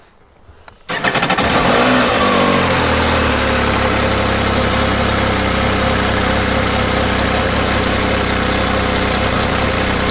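An MV Agusta Enduro Veloce motorcycle engine cranks and catches about a second in, then settles into a loud, steady idle with a brief rise in revs, recorded close up.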